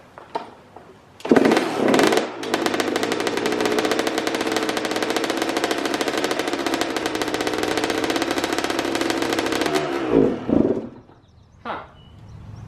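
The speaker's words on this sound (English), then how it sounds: "Doesn't want to idle off the choke. I'll let it just idle for a minute." A Kawasaki KX125 two-stroke dirt bike idles on choke with a steady, buzzy drone that holds for about eight seconds after a couple of short revs, then sputters and fades to quiet.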